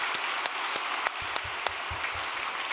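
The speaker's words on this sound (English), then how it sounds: "Let us give a big round of applause to our brothers and sisters in the detention center." A round of applause from a large gathered audience at a religious workshop event, dense steady clapping with a few sharper claps standing out, sustained throughout at moderate level with no talk.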